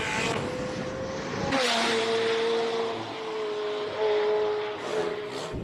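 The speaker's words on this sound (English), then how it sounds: "Garth McIntosh launches his 720 off the start line." A McLaren 720 race car launches off the start line at the Speed Classic Cape Town King of the Mountain hillclimb, its engine note surging loudly and climbing steadily through the gears, close by and without talk.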